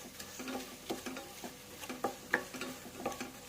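Garam masala and spices frying for egg biryani, soft sizzling under repeated light scraping stirs in the pan, close and fairly quiet.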